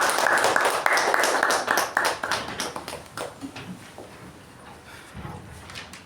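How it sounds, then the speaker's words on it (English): Applause welcoming a speaker at a Toastmasters meeting: dense clapping from a roomful of people, loud at first and tapering off over several seconds, with scattered individual claps near the end. "With a huge round of applause, please welcome distinguished Toastmaster A.K."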